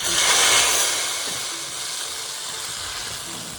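Cumin seeds and a pinch of turmeric sizzle in hot oil for a mountain-style stinging nettle sabzi: a steady, bright frying hiss, loudest in the first second, then settling into an even crackle.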